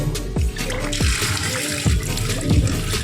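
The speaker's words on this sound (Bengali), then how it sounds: "এবার লতিটাকে একটু ধুয়ে নেব" Cut taro stolons are rinsed in a bowl of water, with splashing, sloshing and dripping as hands swish them around, close and fairly loud throughout.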